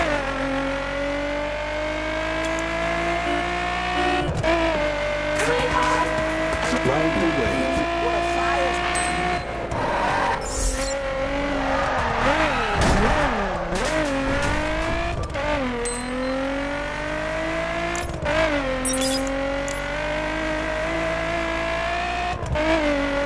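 A 2013 Nissan 370Z Z34 driven in the racing video game The Crew, with a continuous engine drone that rises and falls through repeated revving and gear shifts, plus occasional tire squeal and a speaking voice over it.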